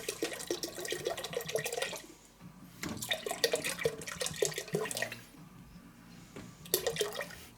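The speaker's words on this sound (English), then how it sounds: "just pour in about half a bottle." Hydrogen peroxide is poured from a bottle for homemade ballistic gel, a close, gurgling liquid stream that pauses and resumes in bursts over a faint low hum.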